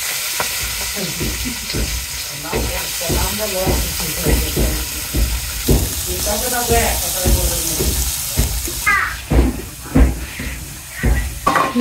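Puti fish, rubbed with turmeric, salt and chili powder, sizzles in hot oil in a wok, a steady crackling hiss running under a voice talking throughout.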